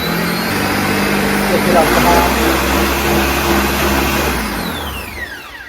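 A blender whirs steadily as it purees cut watermelon chunks into juice, a loud continuous motor drone that fades near the end, with a person talking over it.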